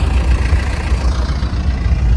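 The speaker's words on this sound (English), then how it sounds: "he's headed off with a tractor" A tractor engine pulls away outdoors after loading, a steady low mechanical rumble holding at a moderately loud level for the whole stretch, with no talk over it.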